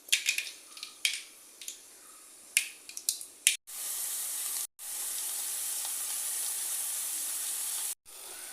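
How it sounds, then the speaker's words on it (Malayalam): Mustard seeds dropped into a hot pan for a simple tomato curry give quick, sharp pops and crackles for a few seconds, then settle into a loud, steady sizzle with brief breaks. "കടുക് ഇട്ട് കൊടുക്കാം"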